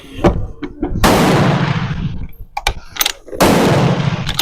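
A Bren MK2 gun fires, loud sharp blasts that ring out with long rumbling decays outdoors, two big reports among a few smaller clicks and knocks nearby.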